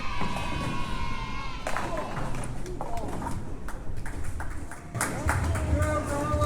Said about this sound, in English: Little cheer for Tai Lee.